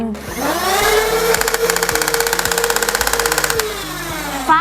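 Chinese V6 toy blaster, not a Nerf, firing a rapid burst: a motor whines up, then fast regular clacking shots for about two seconds before winding down, loud and close.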